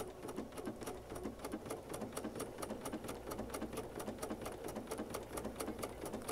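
A sewing machine stitches a quilt project with a fast, steady mechanical patter, close and even throughout.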